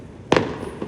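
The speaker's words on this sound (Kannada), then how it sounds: "ಪಟಾಕಿ ಹೊಡೆದ್ಬಿಟ್ಟು" A Diwali firecracker on a Bangalore terrace goes off in one sharp, fairly close burst, followed by a short fading tail and a faint second pop.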